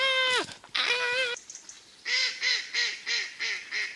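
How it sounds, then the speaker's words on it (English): Ducks call outdoors, a harsh drawn-out honk and a second call followed by a steady series of five or six loud, rhythmic quacks close by, with no talking over them. "Ducks."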